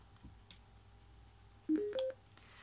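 Power-on chime of a Nillkin PlayVox S1 wireless speaker: a short, close sequence of three rising electronic tones, heard alone over faint room hiss.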